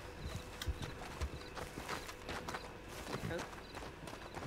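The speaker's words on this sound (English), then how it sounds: "Which horse is it? I'll help you with that. The gypsy cob over here." Hooves of a gypsy cob horse clip-clop steadily in a video game, a quick uneven run of hoofbeats over a busy background with voices murmuring.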